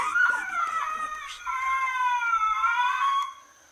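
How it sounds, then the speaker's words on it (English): A handheld electronic predator call plays coyote pup whimpers: two drawn-out, wavering, high whining cries, loud and close, with a short gap between them and nothing else audible. "Let's call them MFK baby pup whimpers."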